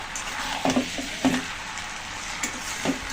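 Spoon stirring a thick young jackfruit and prawn curry in a pan over a low sizzle, a few soft scraping strokes with faint metallic clinks against the pan.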